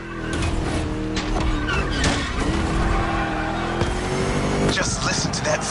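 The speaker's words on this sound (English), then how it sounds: "Just listen to that V8, like a chunky, down-tuned guitar riff." A V8 engine in the racing game The Crew Motorfest, on a Dubai circuit, roaring loudly and continuously with rising pitch sweeps and brief tire squeal.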